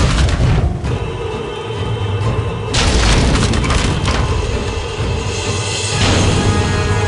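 The Depulso spell effect in the Harry Potter and the Prisoner of Azkaban PC game produces loud, dense booming blasts with cracking, splintering impacts that surge and fade over several seconds.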